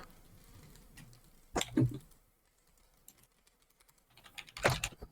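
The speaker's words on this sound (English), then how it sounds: "I'm typing that in the chat, even if it's not," Computer keyboard typing comes in two short, close bursts of rapid key clicks separated by quiet, with faint background hum between them, during a Splinterlands game stream.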